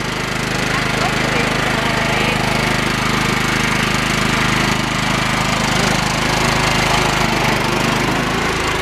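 A riding mower's engine runs loudly and continuously nearby, a rough steady rumble with no pauses throughout.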